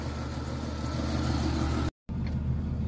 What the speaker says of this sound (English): Just an old tired tractor engine.